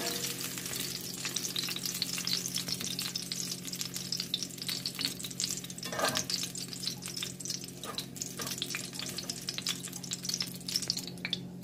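Beef pieces frying in a pan for Filipino bistek, a continuous crackling sizzle with scattered pops and light stirring, fairly quiet and steady throughout.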